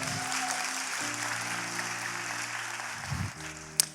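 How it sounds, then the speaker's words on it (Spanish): An audience at a talk claps in a fairly quiet, even wash for about four seconds, over sustained low musical tones. A single sharp knock sounds near the end. "un aplauso para ellos"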